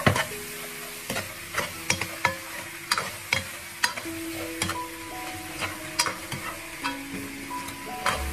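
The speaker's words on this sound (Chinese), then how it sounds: "再倒入排骨，快速的翻炒，炒至排骨上色，再炒出排骨的油脂" Pork ribs being stir-fried in a hot pan, with a steady sizzle under repeated sharp clicks and scrapes of a spatula tossing the meat, close and moderately loud, no talking.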